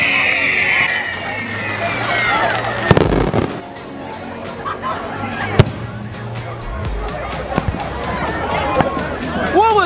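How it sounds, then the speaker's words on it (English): Fourth of July fireworks burst repeatedly, sharp bangs and crackles popping at irregular intervals over a steady crowd murmur and a fading high whistle early on. "I'm gonna show you guys the fireworks."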